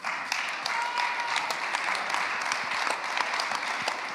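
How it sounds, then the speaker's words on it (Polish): Steady audience applause fills a climate conference hall, a dense continuous patter of many hands held at even loudness for several seconds without a clear break. "Wielkie brawa, dziękujemy."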